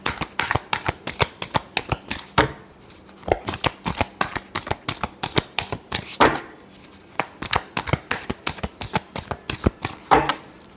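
Tarot cards being shuffled close up, a rapid series of crisp riffling slaps and flutters. The bursts repeat in quick, steady rhythm with brief gaps between groups, and no voices are heard.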